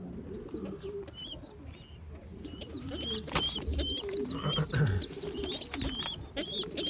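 Homing pigeons and young squabs coo and chirp in the sun, a continuous close chorus of soft coos and bright calls with occasional faint wing flutters.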